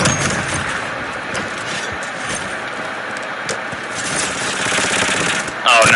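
Rapid automatic gunfire from a shooter video game, a dense continuous burst of shots running throughout at steady loudness with a brief sharper spike near the end.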